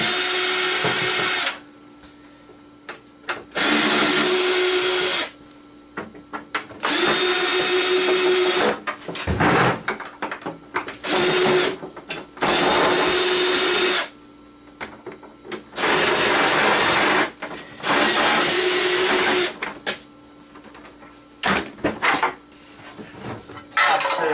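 A power drill whirs in repeated bursts as it backs screws out of a treadmill console, loud and close, with short pauses and light clinks of handling between runs and no speech.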